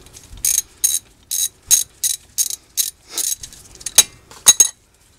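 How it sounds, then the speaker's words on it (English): A ratchet clicks in about ten quick, close bursts, loosening the front brake caliper bolts on a 2013 Toyota Prius V, ending with a couple of sharp metallic clinks. "You can loosen and remove both bolts."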